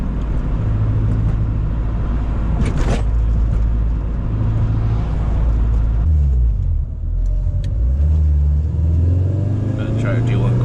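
K24-swapped Honda hatchback pulling hard through the gears, a loud close engine drone with revs climbing, a brief dip at a shift, then climbing again, with talking over it.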